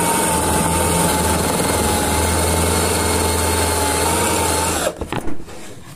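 A power drill bores steadily into a wardrobe door, a loud continuous whine and rumble for about five seconds before it stops abruptly and a few clunks follow.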